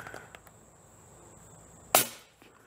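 A Hornady subsonic 300 Blackout round is fired through a chronograph from about 2 or 3 yards, making a single sharp, fairly subdued crack after a quiet stretch, then a short fading tail.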